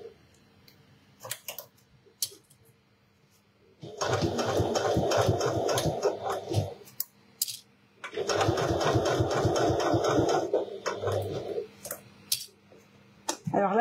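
A sewing machine stitches slowly through thick layers of fabric in two steady runs of several seconds each, with a short pause between them and light handling clicks around them.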